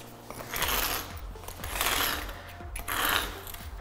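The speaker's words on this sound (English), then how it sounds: "just scrape on the inside of the crack to remove any loose dirt, debris." A tool scrapes loose dirt and debris from inside a crack in a concrete floor, making three rough, gritty strokes of rising and falling noise, close up and with no talking.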